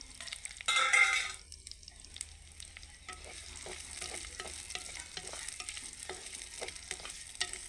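Onions sauté in a pan with mustard seeds and curry leaves: a loud hissing burst at first, then a softer steady sizzle broken by rhythmic spatula scrapes, with no talking.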